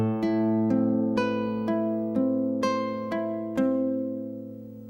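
A slow, clean plucked classical guitar line from 'Romance', played with rest strokes, single notes struck about every half second with long ringing sustain, played alone with no voices.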